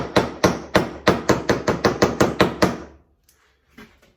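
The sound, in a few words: small hammer tapping a handle onto a knife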